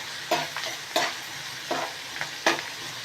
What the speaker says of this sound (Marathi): आता हा कांदा आपल्याला दोन तीन मिनटं परतून घेते कांदा चांगला परतून घ्यायचा